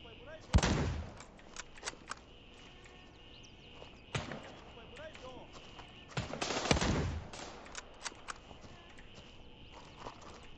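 Gunfire crackles in the video game Gray Zone Warfare, with a few sharp shots and short bursts separated by footsteps and quieter stretches, while a person talks over the action.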